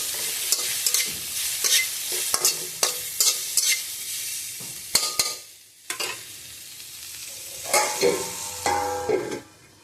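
Cooked rice being stirred with turmeric in a frying pan: a spatula scrapes and knocks against the pan in irregular strokes over a soft sizzle, close up, with no talk.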